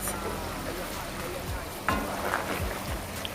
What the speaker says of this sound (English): So here am I stirring it gently.